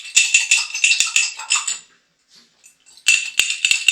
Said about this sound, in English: we're just going to give that a little whisk there